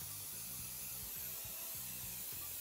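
A leather protector aerosol spray hisses steadily and softly nearby onto a Louis Vuitton Vachetta leather bag, with faint low rhythmic tones underneath and no speech.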